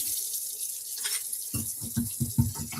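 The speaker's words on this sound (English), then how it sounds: "I like getting fresh water and clean the rest of the dishes" Tap water runs into a kitchen sink during dishwashing, a steady hiss that turns into splashing, clattering bursts as the flow hits dishes partway through.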